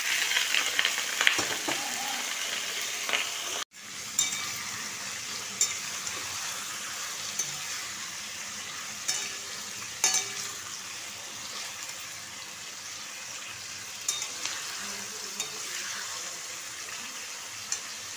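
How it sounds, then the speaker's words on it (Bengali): Meat sizzles and fries steadily in mustard oil with lightly fried onions in a pan, a continuous crackling hiss broken by occasional sharp spatters and stirring knocks. "এবার মাংসটা তুলে দিলাম"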